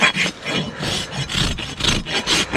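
A hand rasp strokes across a horse's hoof wall to bevel the edge, giving repeated rough scraping passes in a steady back-and-forth rhythm, close and fairly loud with no talk.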